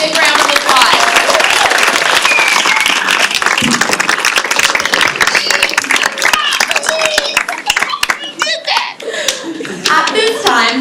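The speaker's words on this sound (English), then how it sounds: "Let's give all of our amazing performers a big round of applause" Audience at a student communications showcase applauds its performers with loud, continuous, dense clapping that carries through the whole clip. Children's voices and cheers come up near the end.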